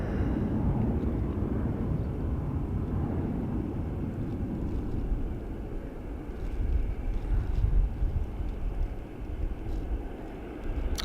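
A Ryanair jet lands at Dublin Airport, a low, steady rumbling roar that swells into the heavy rush of reverse thrust toward the end, with no talk over it.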